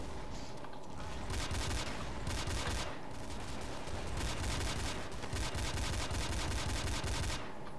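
Gunfire from Counter-Strike: Source gun game, rapid dense bursts of shots rattling almost continuously, with short pauses between volleys.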